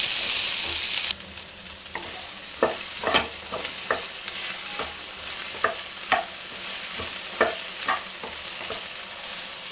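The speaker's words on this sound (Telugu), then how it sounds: "దాంట్లో మనము కట్ చేసుకున్న బెండకాయలని యాడ్ చేసి ఒక 2 నుంచి 3 నిమిషాల పాటు ఇలా కలుపుతూ ఉండాలి." Chopped okra stir-fried in a pan for a bendakaya fry, a constant sizzle broken by repeated sharp scrapes and clacks of a spoon stirring at an irregular rhythm; no talking.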